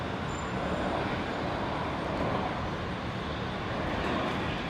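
Airliner on final approach and touchdown on runway 19 right at Brisbane International Airport, a steady broad roar of jet engines and rushing air that holds loud and unbroken throughout.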